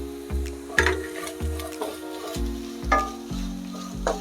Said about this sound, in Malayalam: പച്ചച്ചവ മാറി ഈ ബീറ്റ്റൂട്ടും ക്യാരറ്റും ഉള്ളിയെല്ലാം ചെറുതായിട്ടൊന്ന് വാടി വരണം.